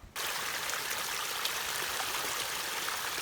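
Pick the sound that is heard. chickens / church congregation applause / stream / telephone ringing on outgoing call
stream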